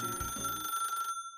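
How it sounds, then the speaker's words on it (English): Telephone ringing indoors, a single bright electronic trill that sounds clearly and then decays into a ringing tail and silence. "My musings were interrupted by the ringing of the phone."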